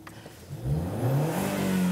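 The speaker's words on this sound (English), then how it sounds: "when you fire up the engine" A 2016 Ford Mustang's 2.3-litre turbocharged four-cylinder engine starts with a short crank, then catches and revs up. The revs climb into a loud, rising growl that holds steady and close by.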